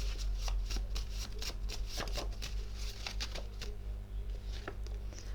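Playing cards being shuffled and riffled in quick, crisp bursts of patter over a low steady hum, fairly close and quiet throughout.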